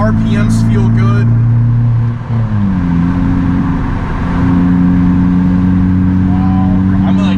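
A 2012 Honda Civic Si engine hums steadily from inside the cabin while driving, its pitch dipping and then settling at a new level as if shifting gears, with brief faint talk at the start and end.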